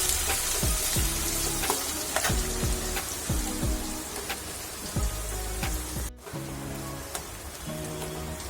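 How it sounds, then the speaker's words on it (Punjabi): Chopped onions frying in hot oil in a pan, a dense continuous crackling sizzle close by with light ticks and a brief dip near the end, no talk. "ਪਿਆਜ਼ ਪਾਵਾਂਗੇ ਕੱਟੇ ਹੋਏ ਜੀ"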